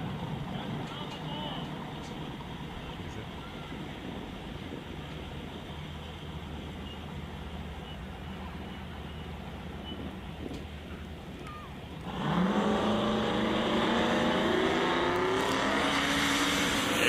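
Ford Mustang S550 drag car at Greer Dragway, a steady loud engine drone that jumps sharply louder as it launches and holds near the rev limiter, with commentary voices running underneath.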